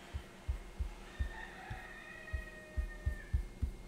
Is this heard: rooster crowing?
yes